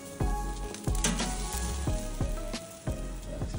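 A sirloin steak sears in a hot pan with garlic, giving a steady close sizzle punctuated by sharp clicks and knocks of a utensil against the pan every half second or so.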